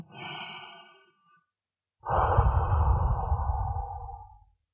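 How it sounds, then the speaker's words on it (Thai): A sharp, quick inhale followed after a pause by a long, forceful blowing exhale, done as a breathing exercise for calming nerves; both breaths are close and clear with no talking. "ให้เฮือกขึ้นแล้วก็เป่า"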